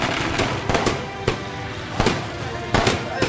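Firecrackers set off in a celebration by party supporters across Tamil Nadu, a rapid series of sharp, loud cracks and pops at irregular intervals over crowd noise.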